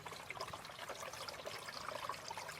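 Water rinsing out an RV gray tank during a Pine-Sol cleaning, a faint, steady trickling and pouring flow with splashy bubbling texture and no talk.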